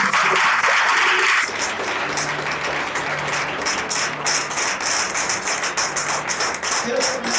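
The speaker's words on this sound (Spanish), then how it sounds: "Denle un aplauso al Señor." A church congregation applauding during a sermon: a dense burst of many hands clapping, loud at first and then settling into steadier scattered claps that continue throughout, with indistinct voices underneath.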